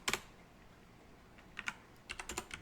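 Quick bursts of keyboard typing: a few clicks at first, a short pause, then a rapid run of keystrokes close by.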